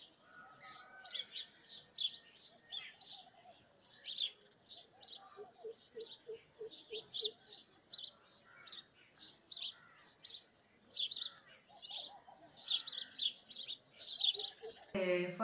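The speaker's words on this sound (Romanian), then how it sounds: "am descoperit în India că veverițele lor cântau" Indian squirrels give repeated high, bird-like chirps in short trilled bursts, fairly close and continuing steadily, with some soft lower cooing calls in between and a sharp brief noise at the end.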